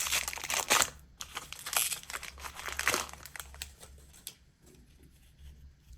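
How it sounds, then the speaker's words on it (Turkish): A Panini Adrenalyn XL FIFA 365 trading card pack is torn open by hand: crisp foil crinkling and tearing in a few loud close bursts over about four seconds, then quieter rustling. "Sıradaki paketi açıyoruz"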